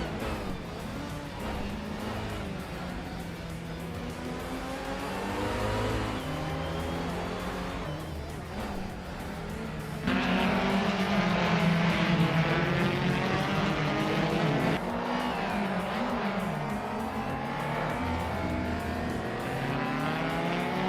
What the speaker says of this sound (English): Billy is driving a 2014 Abarth 500 Assetto Corstati